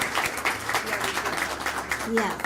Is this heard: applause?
yes